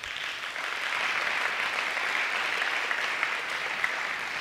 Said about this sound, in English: Chelsea, they're clapping way more for you than me.